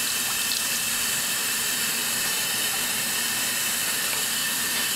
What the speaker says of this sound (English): let me clean the same spoon that I just used